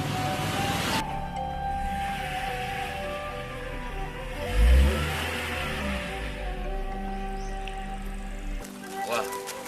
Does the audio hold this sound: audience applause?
no